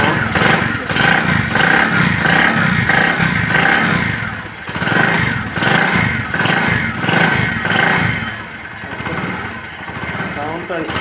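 Engine of a used motorcycle with about 5,448 km on it running nearby, a loud steady single-cylinder putter with periodic surges and dips in revs, no speech over it.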